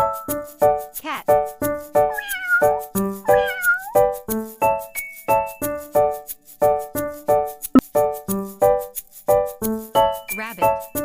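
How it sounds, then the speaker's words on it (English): A cat meows repeatedly, its rising and falling cries heard over a steady, plinking musical backing for several seconds. "Cat."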